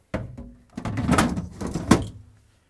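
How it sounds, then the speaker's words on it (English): A Samsung refrigerator's chilled-room shelf and drawers are slid back into place, giving a few close plastic thunks and sliding knocks over about two seconds, with the loudest bump near the end. "And the chilled room shelf goes back in, and all the drawers."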